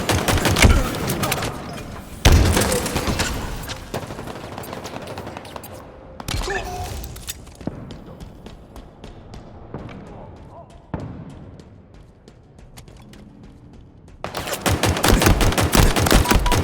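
Gunfire in the multiplayer game Halo Infinite, heavy bursts of rapid shots at the start and end with scattered single shots and thuds between, loud and close; a game voice speaks briefly.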